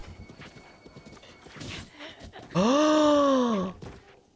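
A horse's hooves clip-clop at a steady walk nearby, then a loud, drawn-out neigh rises and falls for about a second before fading, with faint voices underneath.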